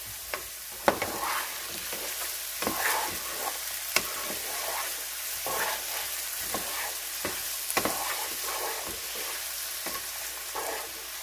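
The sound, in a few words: hash browns frying and being stirred in a pan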